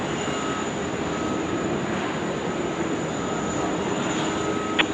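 An airliner takes off from a Sydney Airport runway, a steady distant engine roar with a constant whine that holds for several seconds, heard from afar without talk.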